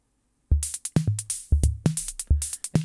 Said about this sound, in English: A more complex pattern I made earlier can be loaded by holding load and pressing one of the sequencer keys.